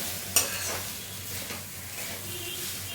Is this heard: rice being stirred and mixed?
yes